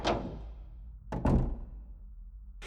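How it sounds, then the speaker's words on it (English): A back door opening in a quiet house at night, heard as a close wooden thunk and creaking shuffle, then a second sharper knock-like bump, followed by a brief rustle at the end. "I heard the back door open."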